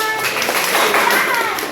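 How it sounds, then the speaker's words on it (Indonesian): An audience at a school presentation breaks into a brief, dense burst of applause: steady, close clapping that fills the moment without pause. "Ya, tepuk tangan."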